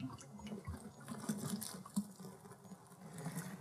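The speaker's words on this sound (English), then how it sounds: "I'm going to pitch it into our wort now" Yeast starter poured into Irish stout wort during brewing, a soft continuous liquid splashing and patter with faint drips, fairly quiet and close, with no speech.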